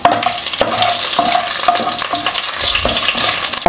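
Vadagam, sun-dried Tamil lentil-and-onion crisps, frying in hot tempering oil for tamarind kuzhambu, a steady dense sizzle with stirring scrapes running throughout, close and fairly loud.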